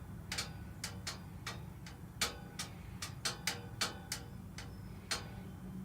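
An air jack lowers the cab of a 2007 Freightliner Columbia truck, making a steady series of sharp, irregular ticks over a low continuous rumble, fairly close and moderately loud, with no talk.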